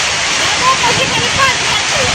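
Rainwater rushes in a strong stream through a village during the rain, a loud, continuous broadband wash of flowing water close by, steady and unbroken.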